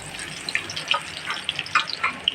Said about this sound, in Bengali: তেলটা গরম হইলে আমি পেঁয়াজ কুচি দিয়ে দেব বন্ধুরা এখন আমি পেঁয়াজ কুচিটা দিয়ে দিলাম